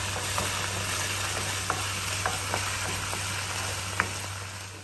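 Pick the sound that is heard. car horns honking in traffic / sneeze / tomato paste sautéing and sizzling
tomato paste sautéing and sizzling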